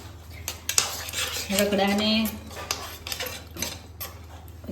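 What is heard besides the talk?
spoon stirring ragda in a pot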